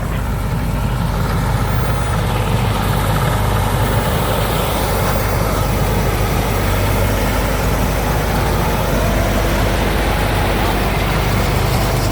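A rice combine harvester runs steadily throughout, its heavy engine a constant loud, close drone with a deep rumble and no pauses, heard alone without talk.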